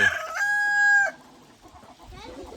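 Fighting-breed rooster gives one loud, close crow with bright harmonic tones, followed by softer clucking and scratchy movement.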